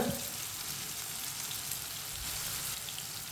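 Tomatoes sizzle and fry in a pan while cooking for a lauki (bottle gourd) curry, a steady close crackling hiss that holds evenly throughout with no talking.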